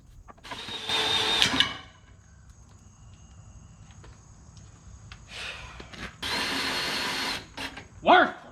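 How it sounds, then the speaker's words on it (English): A power drill whirs in short bursts while drilling a hole for heavy-duty trailer ramps, starting and stopping several times with quiet pauses between, close and fairly loud. "this is not proper procedure for drilling a hole"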